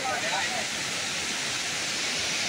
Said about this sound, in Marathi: आज आपल्याला असं खाली धबधबा लागते बघा